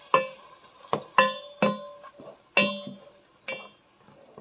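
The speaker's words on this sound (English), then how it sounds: "Make sure you give it a little bit of stir in between." Crushed black pepper stirred into a Dutch oven, heard as half a dozen sharp metallic clinks and scrapes of a utensil against the pot at irregular intervals, close and fairly loud over a faint sizzle.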